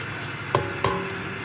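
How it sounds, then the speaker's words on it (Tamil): Turmeric sautés in a pan for rasam, a low steady sizzle close up with two bright metallic clinks as a spoon strikes the pan's rim. "மஞ்சளையும் போட்டு நல்லா சேர்த்து வதக்கிறோம்"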